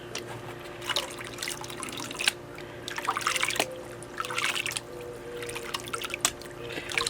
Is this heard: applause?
no